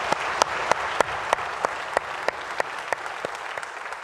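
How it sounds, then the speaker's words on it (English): Applause from the audience at a school grade 9–11 awards ceremony, with a wash of clapping and some sharp individual claps at a steady, regular beat. "join me in a round of applause to our wonderful staff"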